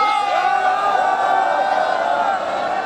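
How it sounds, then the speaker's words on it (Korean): Construction workers at a desert building site in Iraq shout together at a morning assembly, a loud, sustained collective roar of many voices close by. "함성과 함께 시작되는 아침 조회."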